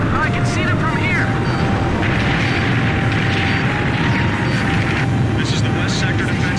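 A missile strikes a target in Ace Combat 5 and bursts into a loud, rumbling explosion. Jet engine roar fills the background, and radio voices talk over it.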